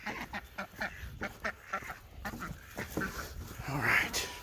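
Ducks quacking in a backyard farm around a duck pool, a rapid series of nasal calls close by, with noisy outdoor background and a brief higher call near the end.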